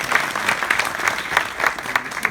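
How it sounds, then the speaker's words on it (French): An audience at a French comedy song performance applauds, with fast, dense clapping from many hands, fairly loud and steady throughout. "Mon assistant, vous pouvez l'applaudir."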